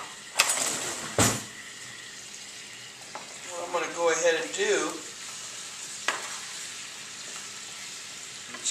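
Peppers sizzle in virgin olive oil with sea salt, a soft crackling fry that swells in short bursts alongside sharp clatters of a spoon or pan, with someone speaking briefly.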